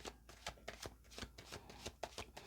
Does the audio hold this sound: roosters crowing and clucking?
no